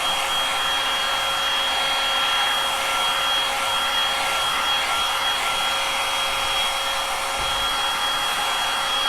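A hair dryer blows a steady, loud, unbroken whoosh with a faint high whine, drying metallic paint on a thrifted wood tool box, running close by with no talking.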